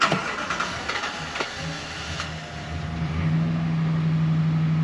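A Dodge Ram 1500 engine with start-up problems cranks with a few clicks and a brief struggle, then catches and settles into a steady idle with a rising tonal hum, heard up close.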